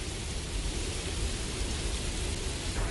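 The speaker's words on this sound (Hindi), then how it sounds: "बारिश तो बहुत बढ़ गई है।" Steady, dense rain hiss fills the whole stretch, a broad wash of noise with low rumble underneath and no voices.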